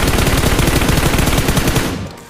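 Rapid automatic gunfire in the mobile battle royale game PUBG Mobile, a loud continuous burst of evenly spaced shots that cuts off abruptly near the end.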